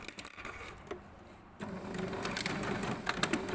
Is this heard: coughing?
no